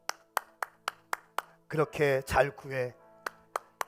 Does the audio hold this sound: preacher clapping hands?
yes